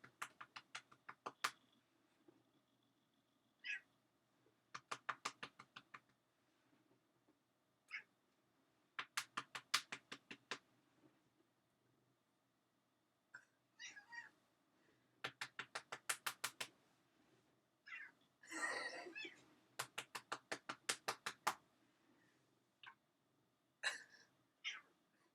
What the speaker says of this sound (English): Can you hear her purring? And yelling at me for more?